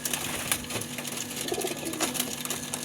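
A young homing pigeon chick coos softly in short, low repeated murmurs, close by, with faint background noise and no one talking.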